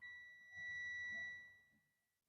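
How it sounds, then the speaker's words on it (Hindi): A multimeter set to continuity mode, probing the ground wire of a Wagon R car music system, emits a single steady high-pitched beep lasting about a second and a half, faint, with a soft handling rustle beneath. "आ गया बीप का साउंड"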